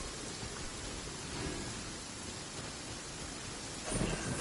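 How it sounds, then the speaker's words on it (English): Heavy steady rain pours down in a Genshin Impact game scene, a dense continuous hiss with a slight surge near the end, with no talking. "Quite a downpour."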